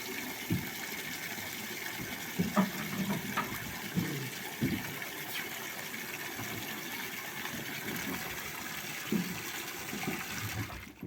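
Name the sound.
gravity-fed water tap opened in a horse stable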